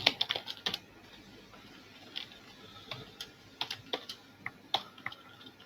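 Code is typed on a computer keyboard in quick irregular bursts of close, crisp key clicks, with short pauses between runs in a quiet room.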